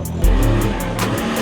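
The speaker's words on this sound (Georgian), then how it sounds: "მანქანა ჟიმნი არის" A Suzuki Jimny off-road car at an off-road championship drives past with a loud, close engine growl and a rising rev partway through, heard alone without talk.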